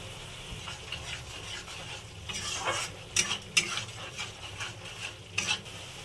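Ground coriander, red chilli powder and turmeric sizzle and get stirred in a pan for prawn malai curry, with scraping, clinking stirs and a steady low fry underneath, no talking.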